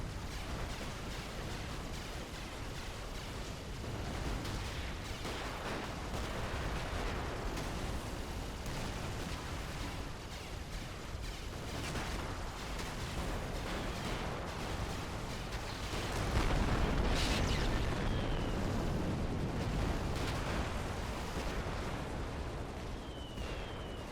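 Sustained artillery fire and explosions roar from a large battle in the real-time strategy game Supreme Commander: Forged Alliance, a dense, continuous rumble of blasts that swells louder toward the end.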